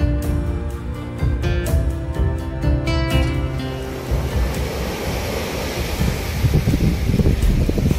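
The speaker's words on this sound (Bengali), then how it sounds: "দেখুন সমুদ্রের ঢেউ, দেখুন ঢেউ" Bay of Bengal surf at Bagda beach rolls in under gusting wind, a loud continuous wash that builds into a broad roar in the second half, with some tonal sounds early on.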